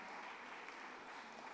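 A room full of people claps in a steady round of applause during a church service, the dense patter holding even and moderately loud throughout without any voices on top.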